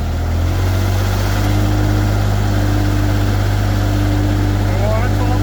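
Engine of a Screen USA TC5036 mobile screening plant running loud and steady with a deep low drone, rising in speed, with a voice talking over it.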